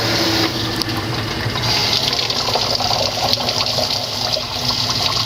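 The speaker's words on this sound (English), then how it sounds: "rinse this off with this little hose here so the stone doesn't accumulate onto this model grinder." Steady running water streams from a small hose rinsing stone dust off a model grinder with a diamond wheel, a continuous close wash with no speech.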